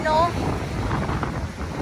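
Strong wind gusts at Dolomite sand beach on Manila Bay during a typhoon, a steady rushing roar buffeting the microphone while someone talks over it.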